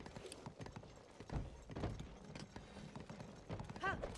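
Horse hooves clip-clop in a Zelda video game, an irregular run of soft thuds and clicks with mechanical creaks, fairly faint and without speech.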